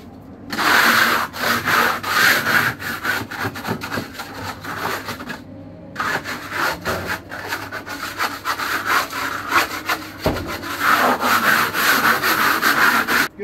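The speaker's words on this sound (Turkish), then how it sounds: "Bu çapakları arkadaşlar böyle fazlalarını alıyoruz." Burrs are sanded off a plaster coat on exterior thermal insulation in close, rhythmic strokes of scraping abrasion, with a brief pause partway through and no talking.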